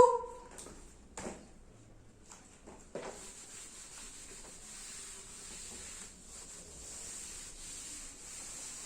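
Board eraser rubbing chalk or marker writing off a classroom board, a steady soft scrubbing that runs for several seconds after a few faint knocks, fairly close and alone without talk.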